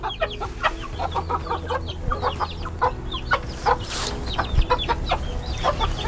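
Backyard chickens in an urban garden clucking and chattering close by in a busy, irregular flurry of short calls over a low steady background hum.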